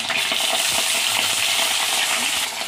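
Hot oil in a kadai sizzles loudly and constantly, a dense close hiss with faint stirring scrapes running underneath.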